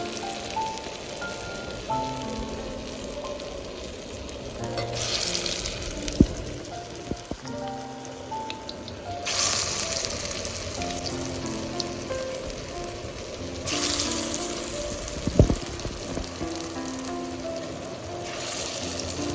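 Banana blossom koftas sizzle in plenty of hot oil, a steady crackling hiss with bursts of louder spattering and occasional clinks of a utensil as pieces are turned.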